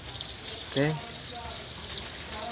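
Water gushes steadily from a hose or can onto grapevines, a constant hiss of spray and splashing under a brief spoken word.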